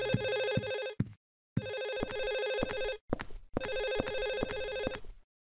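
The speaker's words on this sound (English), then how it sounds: "There's a phone ringing somewhere." A telephone rings in Silent Hill 4: The Room, three long trilling rings of an old-style electric bell with short silent gaps between them, clear and fairly close with no voices over it.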